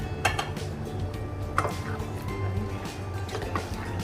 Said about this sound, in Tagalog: Pwede na natin ilagay ang ating fish.